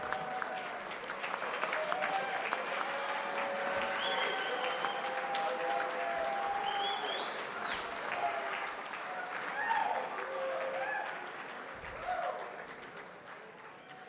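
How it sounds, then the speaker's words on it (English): Sustained audience applause at an awards show, dense steady clapping from a large crowd filling the room, with occasional whoops and a voice over the claps. "let's give these folks a round of applause"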